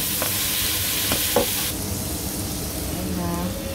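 Beef sizzles steadily in a hot pan, with a few scrapes and knocks as it is stirred, loud and close, without talking.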